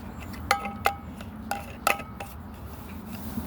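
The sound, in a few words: lid put back on a cooking pot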